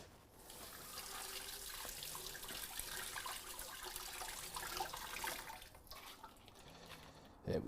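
Tap water runs steadily into a sink while mussels are rinsed, a soft, continuous splashing rush at close range that lasts throughout with no talking.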